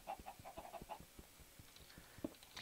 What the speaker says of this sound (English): Chickens, shut up.